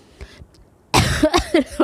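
A burst of several harsh coughs up close, starting abruptly after a quiet moment and repeating in quick, uneven succession.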